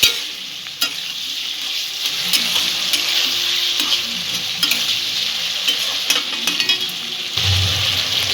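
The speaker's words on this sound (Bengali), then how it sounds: "আবারও মশলাটা একটু মিক্স করবো" Spice masala for a rohu fish curry with onion stalks and eggplant sizzles loudly in a pan while a spoon stirs it, with repeated sharp scraping strokes over a continuous frying hiss and no talking.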